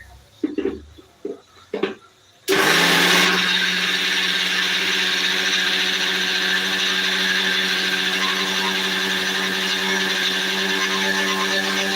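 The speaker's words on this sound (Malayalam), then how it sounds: "നമുക്കിത് മിക്സിയിൽ വെച്ച് അരച്ചെടുക്കണം നമ്മുടെ മിക്സി ഇവിടെ ഉണ്ട് മിക്സി ഒന്ന് അരച്ചെടുക്കാം" A few short bumps and clicks, then a mixer grinder starts abruptly and grinds loudly and steadily for several seconds, close by.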